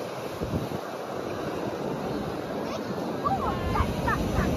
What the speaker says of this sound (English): It is a little breezy.